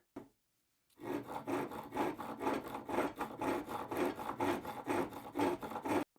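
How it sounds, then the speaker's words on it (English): A hand-made Viking-style saw cutting wood, a steady run of rhythmic rasping back-and-forth strokes after a brief pause, close and alone with no talk. "So the saw at this point will cut, like I will demonstrate for you now."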